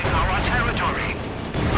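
Machine gun fire from a Panzer IV in Company of Heroes 2, rapid crackling bursts and battle noise heard continuously under a commentator's fast speech.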